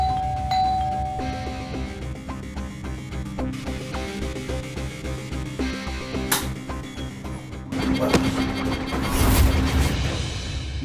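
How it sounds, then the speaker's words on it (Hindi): A doorbell rings inside a home, its tone standing out over a dramatic music bed that swells toward the end, with no speech. "किसी ने घंटी बजाई"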